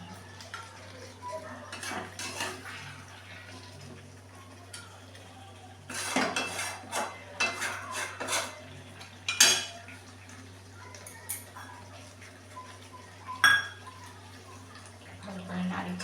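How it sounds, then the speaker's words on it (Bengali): Bengali-style mutton braised at home in a pot, stirred with a utensil: intermittent metallic scrapes and clinks against the pot, louder bursts in the middle and near the end, over a low steady hum. "কষিয়ে নিচ্ছি মাংসটা, মটন তো একটু ভালো করে কষাতে হবে"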